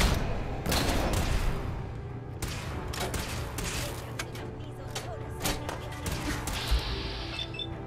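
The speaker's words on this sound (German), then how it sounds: "Die schießen aber auch wirklich ohne Fragen zu stellen" Enemy gunfire crackles in Fallout 4, with repeated sharp shots and short bursts scattered irregularly over several seconds, mixed with game noise and occasional talk.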